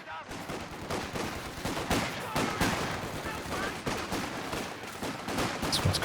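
A Vickers machine gun rattles in a Company of Heroes 2 multiplayer battle, its dense, uneven bursts layered with other gunfire and combat noise. A voice can be heard faintly underneath.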